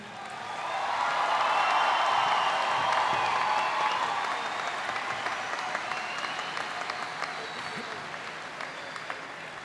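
Sustained applause from a graduation audience at Hamilton High School's 2018 commencement, dense and fairly loud at the start, then easing slightly while the clapping carries on steadily to the end.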